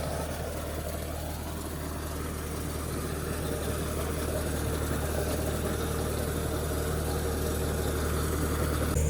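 A steady tractor engine, without a loader fitted, idles throughout with a low, even rumble and vibration, close by and unchanging, no voices.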